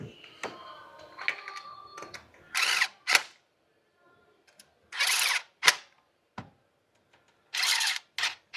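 A power tool drives bolts during a Hyundai Veracruz spark plug replacement, in three short, loud bursts of buzzing with quiet gaps between them and faint clicks of handling before the first.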